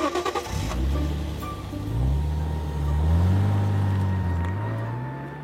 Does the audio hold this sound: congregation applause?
no